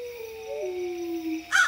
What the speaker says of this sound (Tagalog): Narinig mo ba yung malakas sa alulong ng aso?